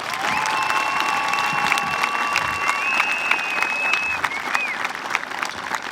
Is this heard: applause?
yes